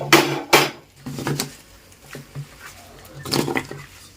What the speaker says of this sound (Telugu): ఇప్పుడు ఈ తాలింపు అంతా పచ్చడికి కలిసేలాగా కలుపుకోవాలండి